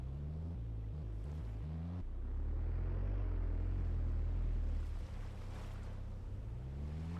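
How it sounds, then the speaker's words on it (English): Flowing water in the video game Eden Crafters makes a steady, full rushing wash beneath a low droning hum. It swells briefly louder midway and continues with no speech. "I can hear water."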